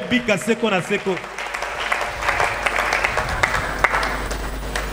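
A church congregation applauds and cheers loudly for the king during a sermon, a dense, steady roar of clapping that follows a brief voice at the start.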